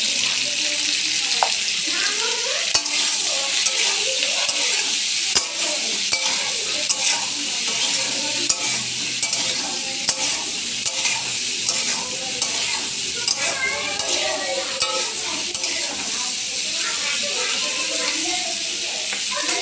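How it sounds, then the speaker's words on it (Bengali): Cauliflower florets fry in oil with turmeric, sizzling steadily in the pan while a spoon scrapes and stirs at irregular intervals, close and continuous. "আমার ফুলকপিগুলো ভাজা ভাজা হয়ে গেছে"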